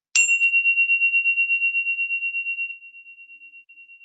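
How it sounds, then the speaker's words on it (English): A single bell is struck once, giving a clear, bright ring that pulses and slowly fades away over several seconds in an otherwise silent room. "we could be breathing until we hear the bell sound"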